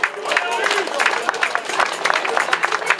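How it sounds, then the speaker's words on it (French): An outdoor crowd at a cycling event applauds three cyclists, with dense, steady clapping under lively voices and babble throughout. "Vous pouvez les applaudir tous les trois."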